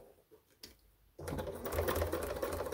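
A sewing machine stitches a running backpack, starting with a few faint clicks and then running steadily and fairly loud for over a second of continuous stitching.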